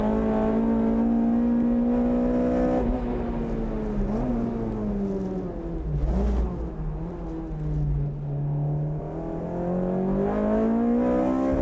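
A tuned front-wheel-drive Honda VTEC car engine drones steadily on a dry track, its pitch rising and dipping as it accelerates and shifts, heard from inside the car with no talking.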